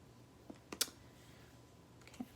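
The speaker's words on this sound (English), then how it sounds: "you're going to type in my last name" Computer keyboard typing: a few soft, scattered keystroke clicks, quiet and close, with a slightly sharper cluster near the middle, and no talking.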